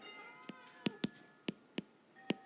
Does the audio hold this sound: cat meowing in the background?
yes